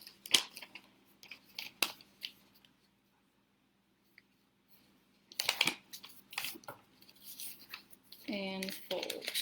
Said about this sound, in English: we're going to fold one more time. So that our wings are very skinny.